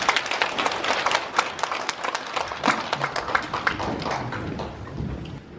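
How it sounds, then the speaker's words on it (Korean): An audience at a North Korea democratization committee New Year gathering applauds the committee chairman. The clapping is dense, steady and fairly soft, with a few louder claps standing out. "큰 박수 부탁드리겠습니다"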